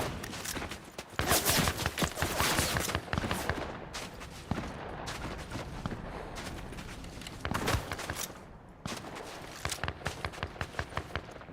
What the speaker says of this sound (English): Where did that gunfire come from